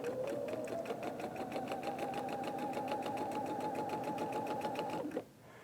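Electric sewing machine running a quarter-inch seam with a clear quarter-inch presser foot, a steady fast whirring stitch rhythm, close and loud, continuing for about five seconds before stopping abruptly.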